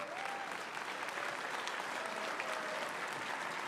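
Audience applause at a live political rally, a continuous wash of many clapping hands heard from a distance and fairly soft, sustained evenly throughout with no talking over it.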